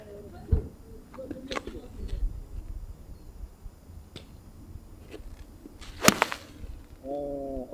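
A sharp crack from a 9-iron striking a golf ball, loud and close, with quieter clicks and faint background chatter around it.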